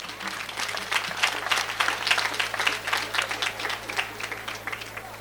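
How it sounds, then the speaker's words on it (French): Audience applause for donors at a special news broadcast event, a steady wash of many hands clapping that swells and holds for several seconds, fairly close and dense, with no clear voices on top. "que nous vous prions d'applaudir très très fort"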